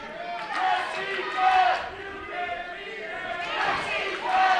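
A split crowd at a Barrie Wrestling show at the FLCC roars and chants in waves, loud and close, swelling twice over the stretch.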